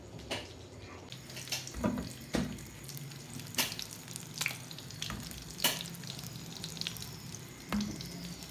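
Kebabs frying in a pan on a stove, giving a steady low sizzle broken by sharp clinks and scrapes at irregular intervals, with water-like splashing in the background and no talk.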